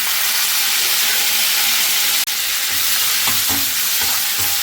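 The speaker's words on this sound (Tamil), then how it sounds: "இப்போ இதில் கருவேப்பிலையும் ஆட் பண்ணிக்கிறேன்" Curry leaves hitting hot oil with urad dal in a pan for pirandai chutney, giving a loud, steady sizzle and hiss throughout with a few faint clinks of stirring near the end.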